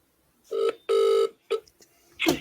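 A phone ringtone plays over a speakerphone, loud and close, in two long tonal bursts with shorter tones and a brief voice-like sound after them.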